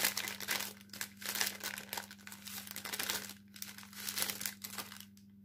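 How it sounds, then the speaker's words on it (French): Plastic packaging crinkles and tears steadily as a lace package is unwrapped, a close, continuous crackling rustle with brief pauses and a faint steady hum underneath. "Donc je vais vous déballer la violette pour que vous voyez mieux à quoi ça ressemble."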